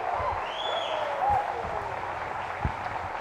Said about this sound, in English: Crowd getting hyped for something else